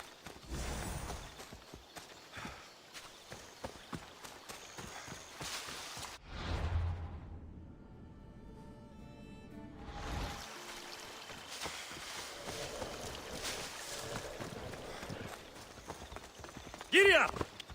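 Rhythmic clip-clop of horse hooves while riding in Assassin's Creed Odyssey, steady and moderately close, with a whooshing gap midway, background ambience, and speech over parts of it.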